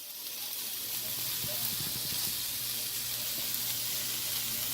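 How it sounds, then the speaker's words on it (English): Oil sizzles in a frying pan while a curry chicken stir fry cooks, a steady, fairly quiet hiss with faint scattered crackles and soft clattering in the middle. "A little oil in the pan also to avoid sticking."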